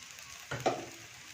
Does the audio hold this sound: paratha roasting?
yes